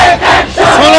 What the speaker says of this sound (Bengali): পুরো শহীদ মিনার এলাকা কিন্তু কাঁপছে তাদের মুখের